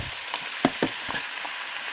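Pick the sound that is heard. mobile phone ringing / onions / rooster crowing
onions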